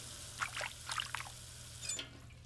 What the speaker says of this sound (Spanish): Lávense bien las manos.